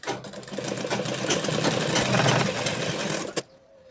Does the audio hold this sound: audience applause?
no